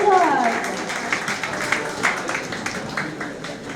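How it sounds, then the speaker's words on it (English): Audience applause at a book release event, a crowd clapping steadily for several seconds after a brief voice at the start, dense and moderately loud throughout. "Round of applause."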